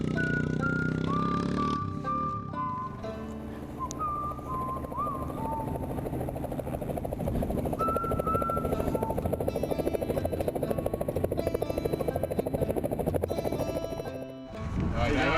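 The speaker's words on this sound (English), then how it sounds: "Oh, chopper." A helicopter's steady rotor drone fills the clip, loud and continuous, with a high whine over it and brief voices near the start.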